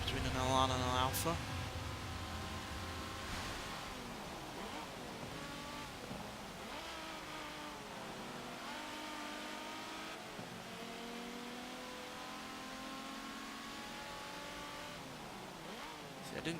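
A vintage sport compact race car fitted with race cams and a race air filter revs and shifts through a wet Forza Motorsport 7 race, its engine note climbing and dropping repeatedly under steady commentary.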